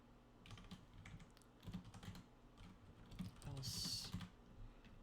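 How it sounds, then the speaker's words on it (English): Computer keyboard typed on during kernel coding, with quick irregular clicky keystrokes in short bursts, close and fairly quiet, and a faint hiss in the background. "Wow, really failing at the typing here."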